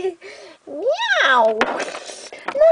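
A cartoon cat from the Littlest Pet Shop animated series gives a single drawn-out meow with rising and falling pitch, close and clear, surrounded by brief French speech.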